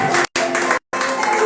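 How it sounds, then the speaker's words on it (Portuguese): A church congregation claps together in a loud, dense burst of applause that cuts out in two brief gaps, close and full across the room, with no voices heard over it. "Aplauda o Senhor Jesus nessa tarde."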